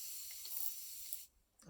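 Hair spray misted onto two-strand twist starter locs on long hair, a steady close hiss for over a second that cuts off abruptly, followed by a brief faint rustle.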